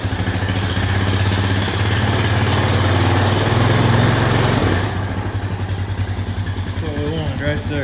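A 2001 Honda Foreman ES ATV engine runs in gear under light throttle, a loud steady mid-pitched drone that drops to a rougher idle partway through while someone talks briefly over it.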